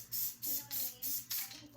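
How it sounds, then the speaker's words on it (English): Spray adhesive hisses from an aerosol can in four short, close bursts with brief pauses between them. "spraying adhesive is like spraying spray paint"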